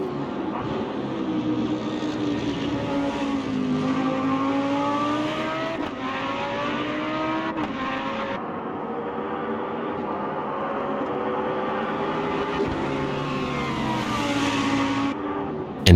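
A McLaren GT3 race car drives out of the pits in Automobilista 2, its engine revving up through gears with rising and falling pitch sweeps, loud and continuous, a sharp burst at the very end.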